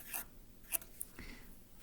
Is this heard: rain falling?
no